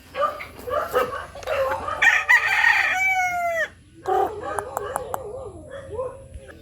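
A backyard-bred rooster in a Philippine village crows nearby in a clear, rising-and-falling call, with clucks and a dog barking around it while someone talks.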